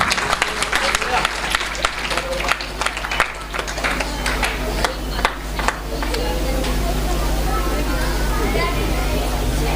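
Applause from a school audience welcoming teachers at a Republic Day event at Star Public School in Meerut, dense and continuous, with some voices mixed in and a steadier wash of crowd sound in the later seconds.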